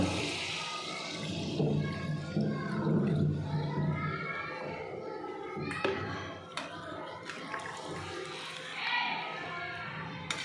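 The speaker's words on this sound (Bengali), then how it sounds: "এবার দিয়ে দেবো জল।" Water poured into a pan of spiced fish curry after the masala has been fried down, a steady close splashing pour over a sizzling base, with a voice speaking over it and a few clinks near the end.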